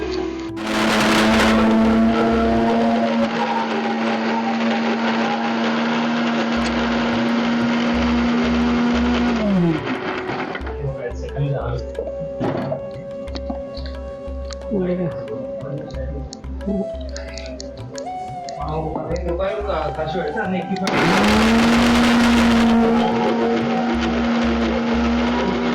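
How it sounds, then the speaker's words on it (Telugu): A mixie grinder whirs loudly as it blends tomatoes and green chillies, running steadily for several seconds, pausing, then starting up again near the end. "మిక్సీ అయ్యింది"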